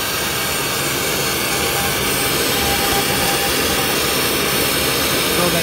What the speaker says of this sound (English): So that noise you hear is actually the vacuum system.